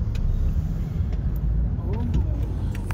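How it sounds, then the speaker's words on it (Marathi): A new test car, its body hidden under covering, drives along a road with a steady, close, low engine and tire rumble that stays even throughout, with faint voices in the background. "भाई कोई तो नया गाडी आहे मार्केट में टेस्टिंग साठी."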